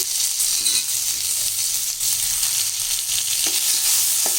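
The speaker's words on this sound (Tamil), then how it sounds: "இதிலே வந்து நம்ம ஒரு ரெண்டு மீடியம் சைஸ் தக்காளி போட்டுக்கலாம்" Sautéed onions with two medium tomatoes sizzle loudly and continuously in a pan, a dense close-up frying hiss with occasional faint stirring clicks and no voices.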